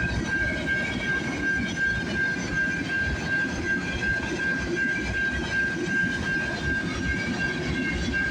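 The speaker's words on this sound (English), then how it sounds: "As soon as this train passes" A train rumbles past steadily and loudly on a snowy morning, its wheels clattering over the rails with a sustained high metallic whine throughout.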